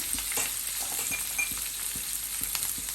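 Chicken 65 fries in hot oil with a steady, close crackling sizzle, punctuated by soft periodic stirring knocks against the pan.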